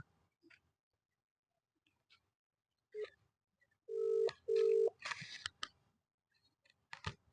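A phone being dialed for a call in a quiet room: scattered faint taps and clicks, then two short, steady beeping tones close together, followed by a few more keypress clicks.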